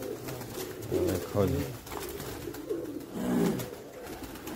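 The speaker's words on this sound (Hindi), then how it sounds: "काफ़ी कबूतर जोड़े वाले कबूतर का शौक किया है" Pigeons kept on a rooftop, including high flyer pigeons, coo in low, throaty bursts close by, repeating every second or so, with someone speaking briefly over them.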